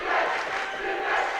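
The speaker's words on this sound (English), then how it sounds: "boy, is the South crowd back into it now" Home crowd at a high school boys basketball game in a gym roars in a dense, sustained wall of cheering and yelling, loud and close, with no clear individual voices.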